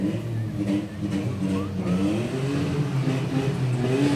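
Car club car from the Elusive Car Club rolling in an outdoor July 4th Liberation Day parade, its engine rumbling and revving steadily up close for several seconds, with faint crowd noise underneath.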